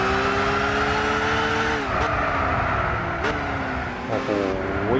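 A race car in Gran Turismo 6 pulls away from the start on a rain-slick track, its engine droning loud and steady with brief dips in pitch as it shifts gears.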